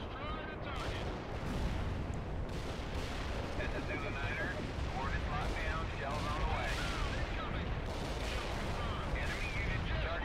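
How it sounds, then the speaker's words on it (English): Precision artillery strike in World in Conflict: a dense, continuous barrage of booming blasts and rumbling explosions, loud and sustained, with game voice chatter mixed in. "Call in some precision artillery."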